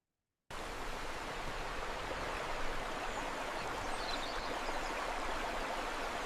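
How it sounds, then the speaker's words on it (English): A babbling brook plays from a video: steady, broadband rushing water that starts after a half-second of silence and runs at an even level, moderately loud, with no talk. "maybe the brook"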